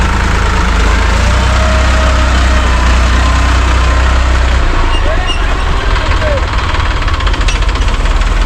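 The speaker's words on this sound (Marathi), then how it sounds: "मंडळी रिवर्सनी काही ट्रॅक्टर निघत नाही" A tractor engine labours to climb out of a pit about four feet deep in a farm field, pulling forward after failing in reverse. It makes a steady, heavy low rumble that runs throughout.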